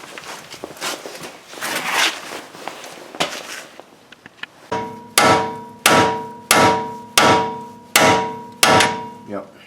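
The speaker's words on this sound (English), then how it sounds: "let me whack the bolts in first" Heavy hammer blows driving bolts into a 2017 GMC Acadia, six loud, evenly spaced metallic strikes ringing out after a stretch of rustling and handling noise.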